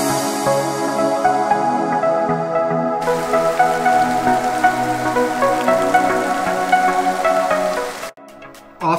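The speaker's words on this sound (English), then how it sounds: "It's raining." Steady rain pours down on a surface in a dense, continuous hiss with a sharp shift partway through and an abrupt dropout near the end, and no voices.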